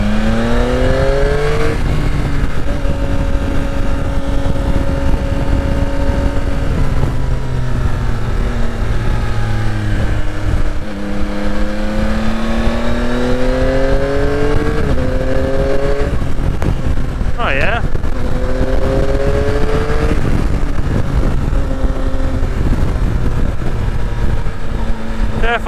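2022 Yamaha Tracer 9 GT motorcycle accelerating in second gear, engine note climbing in pitch through repeated roll-ons with gear and throttle changes, loud and close under constant wind rumble, with a rider talking over it.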